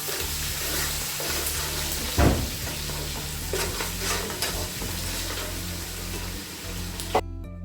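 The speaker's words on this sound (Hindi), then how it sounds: "ये ग्रीन चिली जो मैंने रफली चॉप किए हैं जो भी हम ऐड कर देंगे" Green chilies and ginger garlic paste sautéing with whole spices in a pan, a steady close sizzle broken by stirring scrapes and a sharp clank partway through, with no speech.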